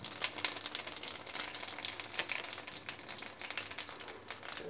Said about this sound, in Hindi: ऑयल गरम हो गया है, मैं इसमें जीरा डालूंगी लगभग 2 छोटे चम्मच, और सौंफ डाल दूंगी